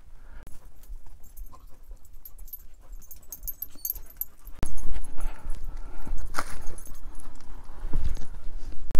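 Dogs out on a hike across open country at Polecat Bench, Wyoming, with padding footsteps, panting and jingling tags close by, and a louder scuffle of movement partway through.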